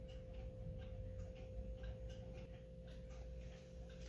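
An E.N. Welch parlor clock ticks steadily with its pendulum running, a quiet, even beat over a low hum in a still room.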